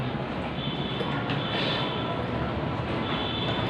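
An MRT train at a station in Manila produces a steady, broadband rumble and hiss throughout, with a faint high whine above the continuous rail noise and no talking.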